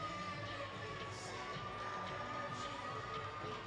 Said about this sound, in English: he's going to get a round of applause from the crowd in Allen, Texas